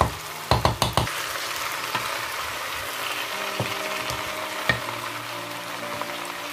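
Chicken and vegetables for Cameroonian poulet DG frying in a pan, stirred with a few sharp utensil knocks at the start, then a steady close sizzle throughout.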